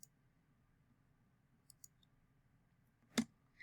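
A single crisp computer mouse click, close and isolated in near silence, with a couple of faint ticks before it and another light click right after.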